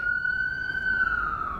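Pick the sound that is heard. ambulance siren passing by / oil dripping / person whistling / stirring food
ambulance siren passing by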